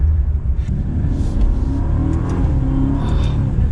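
A 2021 Maserati Ghibli Trofeo sedan with column-mounted paddle shifters pulls hard through its gears, a loud, steady engine drone rising and swelling as each shift comes, heard from inside with no talking.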